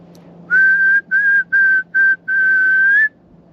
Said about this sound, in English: I know it is because I just whistled at him.